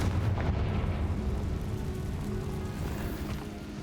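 A Confringo spell explosion in the video game Hogwarts Legacy makes a dense, sustained roaring blast rumble that fades slightly over a few seconds, with no talk over it.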